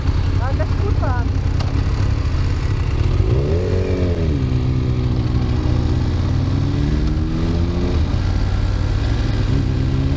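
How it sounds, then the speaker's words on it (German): A 90 hp motorcycle on a road ride, its engine drone climbing in pitch midway and then holding a steady, close roar throughout, with constant wind rush. "ich bin das nicht gewohnt, so eine 90 PS Maschine zu fahren"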